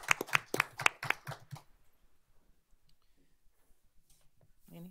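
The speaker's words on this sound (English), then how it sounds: "let's give that group a round of applause" People at a school board of trustees meeting give a quick burst of rapid clapping that stops after about a second and a half, leaving near silence with faint scattered knocks.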